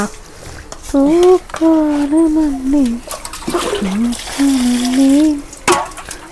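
Water tipped out of a basin during the rainy season, with brief splashing bursts that come and go while voices talk and call out loudly throughout.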